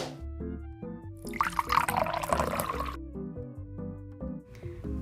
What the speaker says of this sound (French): t'es sous la douche?